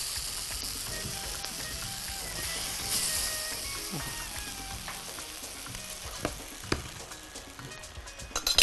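Creamy mahalabia pudding stirred in a pot on the stove, a continuous soft scraping and bubbling sizzle with occasional spoon knocks against the pot growing sharper near the end, with no talk.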